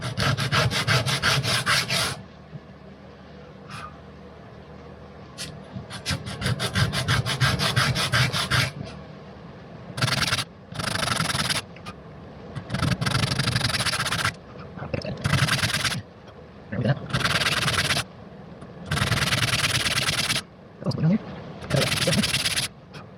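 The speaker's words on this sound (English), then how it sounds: "So we're going to sand some of these issues out. Again, we're starting out with that 60 grit." Hand sanding of a wooden swimbait lure with coarse 60 grit sandpaper, heard as steady rasping strokes in repeated bursts separated by brief pauses, close and fairly loud.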